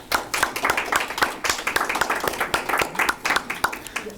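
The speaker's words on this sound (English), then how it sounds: "please join me in giving them all a hearty round of applause" An audience at a Case Western Reserve University Innovation Week event gives the speakers a round of applause, a dense patter of many hands clapping steadily at close range and moderate loudness throughout.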